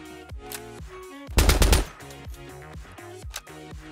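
Rapid automatic gunfire in the tactical shooter game Ready Or Not, a loud sustained burst of closely spaced shots in the middle framed by lighter mechanical clicks and handling sounds before and after.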